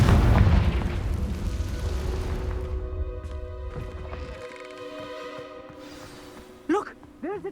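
A Confringo fire spell blasts in Hogwarts Legacy, a loud booming explosion that rumbles and decays over several seconds, followed by a brief whooshing magical effect near the end.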